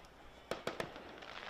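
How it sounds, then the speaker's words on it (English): At an evening July 4 Northwoods League baseball game, distant fireworks pop three times in quick succession over a steady ballpark crowd hum. "Fireworks show starting to emerge over on the first base side now."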